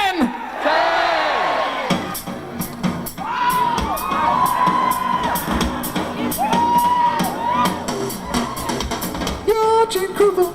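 An audience screams, whoops and cheers loudly for Gene Krupa of the Tommy Dorsey Orchestra, featuring Anita O'Day; the shrill, continuous crowd noise rises and falls throughout with piercing individual shrieks.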